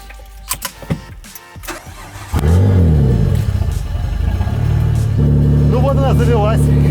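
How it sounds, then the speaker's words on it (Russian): A naturally aspirated V6 car engine, part of a twin-turbo build, cranks after a few scattered clunks, catches at once and settles into a loud, steady idle with a slight rev. "Вот она завелась с полтычка"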